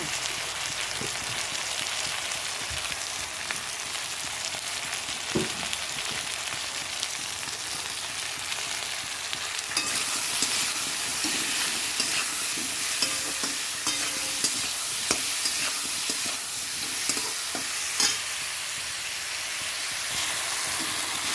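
Turmeric-spiced vegetables frying in hot oil in a pan for a hilsa fish curry with potato and brinjal, a steady crackling sizzle throughout that grows brighter and denser about halfway, with occasional stirring clatter and no talk.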